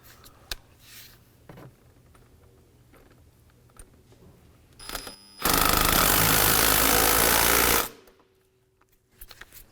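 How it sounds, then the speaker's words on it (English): A 10 mm socket on a power driver tightens a hose clamp on a 2015–2019 Hyundai Sonata intake, with light tool handling noises, then one loud, continuous buzzing burst of about two seconds that stops abruptly; no speech. "With our 10 mil socket, we'll go ahead and tighten down our hose clamp on the bottom first."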